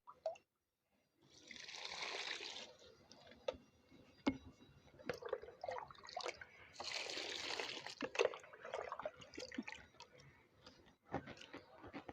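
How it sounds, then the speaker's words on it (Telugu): Water pours onto smashed coco peat in two separate bursts, a rushing splash each time, with small clinks and handling noises in between. "ఇప్పుడు కొంచెం వా కొన్ని కొన్నిగా వాటర్ పోసుకున్నాను"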